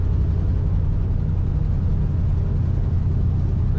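A 1971 Chevrolet Nova two-door sedan with a four-speed manual idles nearby, its engine and exhaust giving a steady, deep, throaty rumble that stays loud and even throughout, with no talking.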